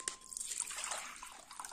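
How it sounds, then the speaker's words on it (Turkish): Bitter brine water drained off cracked green olives, a close, continuous trickle and splash of liquid pouring out for a couple of seconds. "İlk koyduğumuz sularını süzdürüyoruz."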